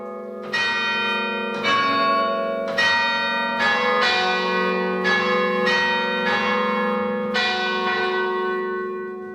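Church bells ring on the Isle of Man in a long, steady peal, with about eight loud, resonant strikes overlapping. Each one has a bright attack and a humming tail, and no voices are heard.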